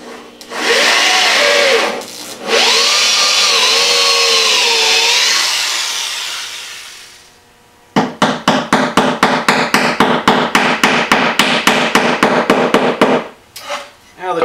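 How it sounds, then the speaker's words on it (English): A power drill boring dowel holes into a wooden record shelf: a long whirring run that dips in pitch, a pause, then a rapid series of loud, regular bursts as the bit works the wood, close up. "Drill down to the tape."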